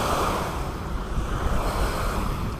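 Surf rolling in along the Gulf Coast of Florida, a steady broadband wash of waves with wind rushing across the microphone, fairly loud and continuous with no voices.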